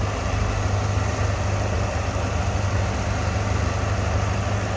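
A supercharged 2012 Chevrolet Corvette Callaway idles steadily with a deep, rumbling throb and a constant blower whine layered on top, close and continuous with no talking.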